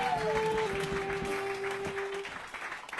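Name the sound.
audience clapping at live comedy show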